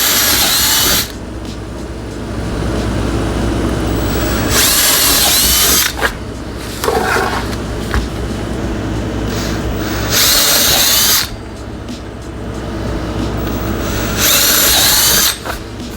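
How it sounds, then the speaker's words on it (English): Power drill boring holes into wood with a bit larger than a jigsaw blade, making two holes in a rectangle's corner; loud high whine in repeated bursts separated by lower motor running, no talking. "we are going to take a drill bit that is bigger than our jigsaw blade, and we're going to make 2 holes"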